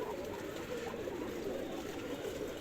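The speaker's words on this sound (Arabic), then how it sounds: "سامعين الحمام؟" Low, continuous cooing of pigeons, a soft murmuring drone that holds steady throughout with no voices.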